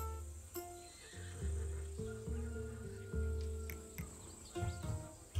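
A horse whinnies a few times in the video game Assassin's Creed Odyssey over steady tonal background music, fairly quiet overall.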